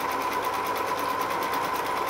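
Swedish-made Husqvarna sewing machine, over 20 years old, running smoothly at a fast, even stitching rhythm, a steady close mechanical whir with no talk.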